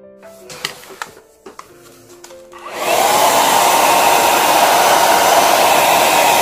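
A hair dryer switches on after a few quiet clicks and handling sounds, then blows loud and steady while drying satin varnish brushed onto an acrylic-painted coaster.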